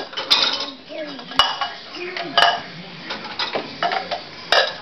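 A toddler clatters dishes and cutlery in a home dishwasher, making repeated close, bright clinks and rattles at an uneven rhythm, with soft child vocalising at moments.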